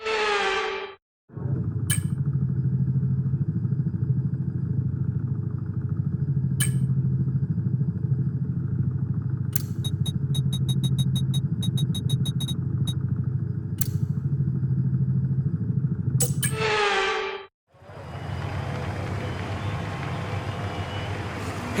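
F1 cars on the formation lap at Monaco in F1 24, a steady loud engine drone lasting most of the clip, bracketed by brief high revving whines at the start and end, with sharp clicks overhead.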